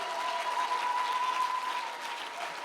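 A church congregation applauding steadily at a French-speaking conference, a dense even wash of many hands clapping together for a few seconds.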